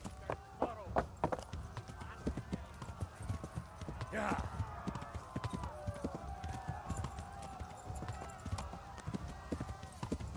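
Horse hooves clip-clop steadily in the medieval game Kingdom Come: Deliverance, with a whinny partway through and voices talking over the rhythmic footfalls.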